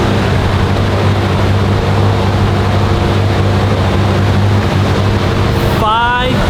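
Nissan R32 GTR engine held at high, steady revs on a dyno, a loud sustained drone that cuts off near the end, followed by a brief whine as it winds down.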